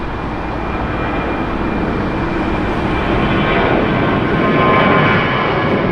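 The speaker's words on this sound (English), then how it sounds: "You can hear that Southwest plane rocketing out." A Southwest Airlines jet departing LAX roars as a loud, continuous broadband engine rush that swells slightly toward the end, with no voices present.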